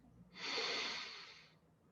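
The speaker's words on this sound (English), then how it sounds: "taking a nice deep breath in through the nose" A single deep breath drawn in through the nose during a guided evening meditation, a close, soft airy inhale lasting about a second and heard alone in a quiet room.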